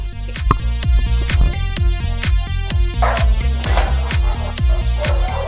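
Several dogs at a dog breeding and training kennel bark loudly and repeatedly, with a fast, overlapping barrage of sharp woofs and yips close by and no break.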